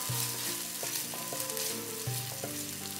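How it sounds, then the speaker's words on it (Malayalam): Chopped onion and garlic fry in hot oil with a quiet, steady hiss, heard faintly under gentle background music. "ഇതിൻ്റെ കൂടെ നമ്മൾ ചെറുതായിട്ട് അരിഞ്ഞ വെളുത്തുള്ളിയും കൂടെ ഇട്ട് കൊടുക്കാം. ഇതൊന്ന് നമുക്ക് വഴറ്റിയെടുക്കാം."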